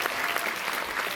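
Audience applause at Liverpool Comic Con 2023, a dense, steady wash of many hands clapping at once, loud and close throughout with no break.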